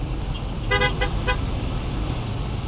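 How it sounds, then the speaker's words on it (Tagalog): A car horn honks in stop-and-go traffic, three short toots close behind, over a steady low engine and road rumble. "Excited si Papsi, nasa likod, panay busina."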